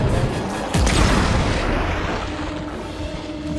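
A rivet shotgun fires once in Dead Space 3, a heavy, booming blast near the start that decays into a long rumbling tail of game ambience.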